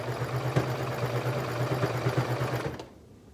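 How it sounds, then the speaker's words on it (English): A sewing machine stitches a pocket bottom through several thick layers of fabric, running with a steady, close, buzzing whir that stops abruptly near the end. "we are again sewing up the bottom of the pocket"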